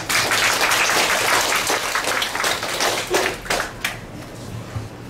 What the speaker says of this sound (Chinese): 让我们请掌声欢迎李晓光老师。